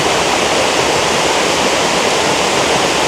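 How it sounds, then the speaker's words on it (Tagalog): A roadside waterfall on Mt. Baruyen in Abra roars as a loud, dense, unbroken rush of falling water heard up close. "meron na naman tayo nakita na waterfalls"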